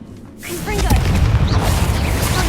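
A Confringo fire spell explodes in the game Hogwarts Legacy, a sudden booming whoosh that swells and then rumbles on loudly to the end.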